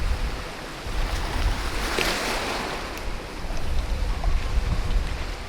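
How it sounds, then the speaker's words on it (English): Strong wind blowing outdoors on the deck of a cruise ship at sea near Jamaica, a steady loud roar buffeting the microphone with gusts swelling and easing, no voices. "Holding my hat down because it is windy still"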